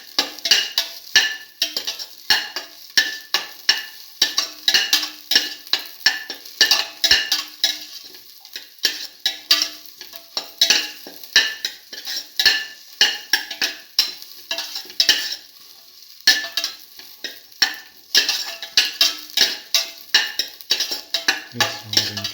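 Potato and French beans with salt mix are tossed and stirred in a bowl, producing rapid repeated clinks and scrapes of a utensil against the dish, close and rhythmic throughout.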